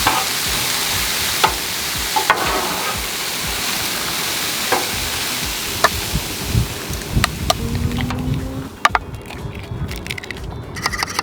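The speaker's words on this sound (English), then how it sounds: "We've got some frozen peas and carrots, and they're just gonna go right down on the griddle." Frozen peas and carrots hit a hot Blackstone griddle and hiss continuously. Sharp metal spatula clicks and scrapes land at irregular moments, growing busier near the end.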